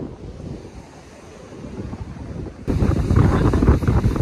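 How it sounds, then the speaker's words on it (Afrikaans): Strong wind buffets the microphone over crashing surf on a Mozambique beach, a steady roar that suddenly grows louder and denser partway through, with no voices. "Dit is baie winderig vandag"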